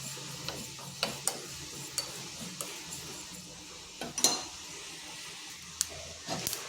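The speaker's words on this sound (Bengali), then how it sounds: "জিরাটা যে চটপট শব্দ করছে" Whole cumin seeds crackle in hot oil in a small tempering pan, giving scattered sharp pops and ticks over a faint sizzle, fairly quiet and irregular, with no talking.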